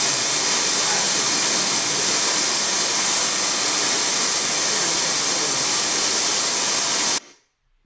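Steam escapes from a steam line in a loud, steady roaring hiss that runs for about seven seconds and then stops abruptly into near silence.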